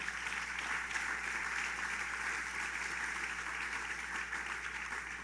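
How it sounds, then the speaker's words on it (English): Audience applause for county executive Mike Hine at a summer tourism launch event at Bethel Woods, a steady wash of clapping that holds at an even level throughout with no speech over it. "Mike Hine, let's give him a big round of applause"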